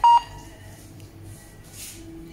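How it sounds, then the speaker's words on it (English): A GOQ SH030 WiFi IP security camera gives one short, loud electronic beep at the very start, followed by a quiet indoor room hum with no talking. "The beep sound will go after 1 to 2 minutes."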